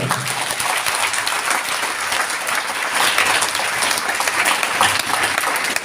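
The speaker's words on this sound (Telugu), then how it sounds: "ताली पे जोर से बजाएं" A church congregation claps loudly and steadily during a worship service, a dense, continuous wave of applause that fills the room.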